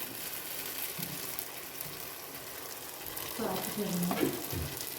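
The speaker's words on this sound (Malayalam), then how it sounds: "ഹോം മെയ്ഡായി ചെയ്ത ഗീ നമ്മൾ അതിലോട്ട് ആഡ് ചെയ്ത് കൊടുക്കാം" Homemade ghee goes into a frying pan during biryani cooking, giving a soft, steady sizzle that grows slightly louder toward the end, where a brief voice-like sound also appears.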